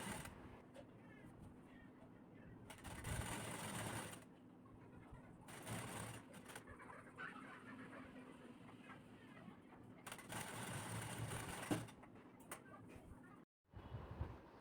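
Sewing machine stitching the side seam of a blouse, joining back and front edges, running in several loud bursts separated by pauses, with a steady background hum throughout.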